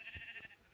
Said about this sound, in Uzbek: Qo'ylarni o'ldir, qo'ylar bor ekan.